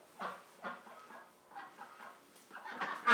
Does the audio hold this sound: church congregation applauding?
no